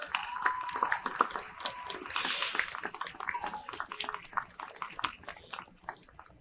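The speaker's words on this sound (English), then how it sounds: "How about a round of applause for the staff?" Crowd clapping for event staff at a strongman national championship, a scattered, uneven round of applause at moderate distance with some whoops and background voices mixed in.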